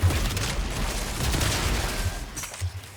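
Gunfire from a test weapon in Warframe, the Coda Tysis: a loud, dense burst of rapid shots that continues steadily for about three seconds with no talk over it.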